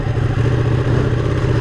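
A Ducati 959 Panigale sport bike engine runs in a steady, close, loud drone that barely changes pitch over a short moment.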